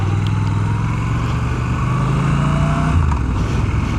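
A Triumph Scrambler motorcycle engine rumbles steadily while riding on a wet, rainy day, a loud, continuous low drone close by with slight shifts in pitch toward the end.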